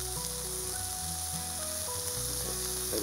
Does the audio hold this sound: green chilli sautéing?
yes